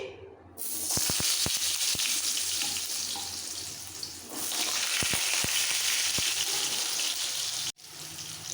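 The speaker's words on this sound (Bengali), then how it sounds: "তেল ভালোভাবে গরম হয়ে গেছে এবার কেটে রাখা ধোয়া আলুগুলো দিয়ে দিচ্ছি" Washed, cut potatoes dropped into hot mustard oil give a loud, continuous hiss, with a few sharp knocks at the start and again midway and no voices.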